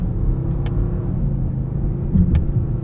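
A 2024 Mercedes-AMG GLE 63 S Coupe with a nine-speed automatic runs while still warming up, its engine a steady, deep rumble heard from inside, with a couple of faint clicks over the drone.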